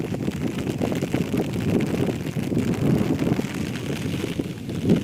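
Steady gusty wind buffeting the microphone, a continuous low rumble with fluctuating roar and no clear voices.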